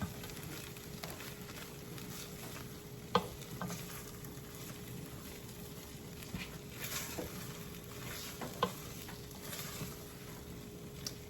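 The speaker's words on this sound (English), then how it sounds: "let's get to stirring" A pot of rice and beans is stirred, a faint constant simmering hiss with occasional soft scrapes and knocks of the spoon against the pot, no voices.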